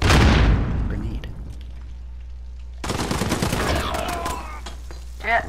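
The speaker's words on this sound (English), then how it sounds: "Grenade." A loud in-game grenade blast booms and fades, then a stretch of rapid gunfire crackles in a video game, with a voice speaking briefly near the end.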